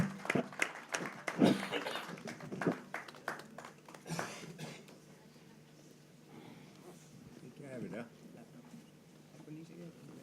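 An audience claps for a speaker walking to the microphone. The applause starts in scattered bursts, then thins out and quiets over several seconds, with some talk under it.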